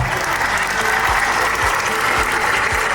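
An audience applauds at an evening open-air event in a park in Znamenskoye, a steady dense clatter of many hands clapping with no pauses, fairly loud and close.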